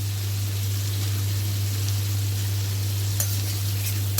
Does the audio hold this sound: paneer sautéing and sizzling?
yes